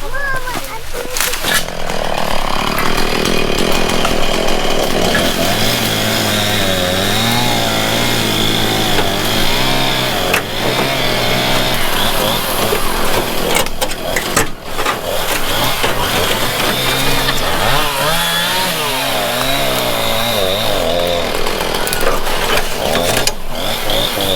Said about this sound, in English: I was gonna say that's like the quietest chainsaw